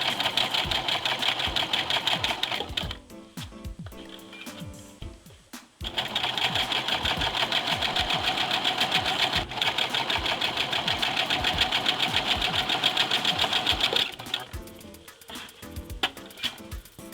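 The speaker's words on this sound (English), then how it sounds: "Get sewing along that curve." A sewing machine hems a dress shirt along a curve, running in steady rapid bursts of mechanical clatter, pausing briefly twice before starting again, close and alone without talk.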